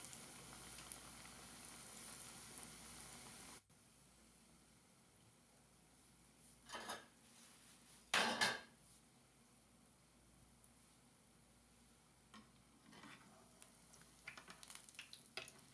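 Bread samosas frying in oil give a faint, steady sizzle throughout, broken by a few brief clatters and a louder splash of bubbling.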